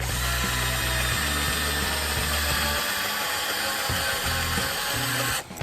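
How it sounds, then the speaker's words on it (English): A power drill spinning a wire wheel grinds rust off a BMW E36 brake caliper, a loud continuous whirring buzz with shifting pitch as pressure changes, stopping abruptly at the end. "I'm gonna clean this whole entire caliper just using like a wire wheel like this"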